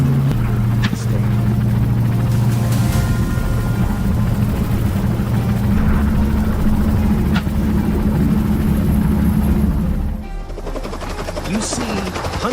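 A helicopter on a wild boar hunting trip: loud, continuous rotor drone and engine hum run throughout, steady and close, shifting slightly near the end.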